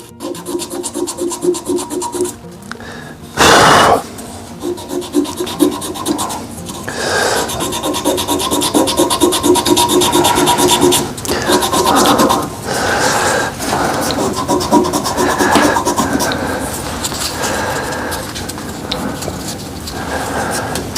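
Sandpaper is held against a spinning wood burl and epoxy resin shaving brush blank on a lathe, making a steady loud rubbing hiss over the motor hum with a few sharper scrapes and bumps along the way.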